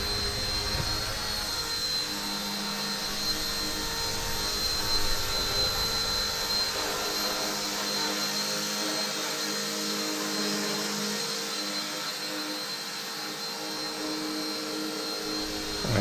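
An RC Era C138 Bell 206 ready-to-fly RC helicopter in flight gives a steady, continuous high rotor and motor whine with a constant bright tone, heard close and alone for the whole stretch.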